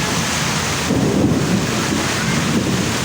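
Heavy rain and strong wind roar together in a thick, continuous wash, with gusts buffeting the microphone and a deep rumble underneath, loud and close, with no voices.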